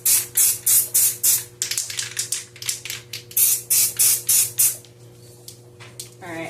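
Aerosol spray paint hissing indoors in a house, in a series of short, loud bursts of roughly half a second each, with a steady low hum underneath and quieter sputters toward the end.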